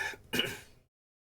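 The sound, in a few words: coughing and throat clearing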